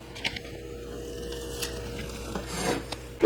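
Paint being brushed over a stencil on wood, a soft continuous scratchy rubbing with bristles going back and forth, close and steady.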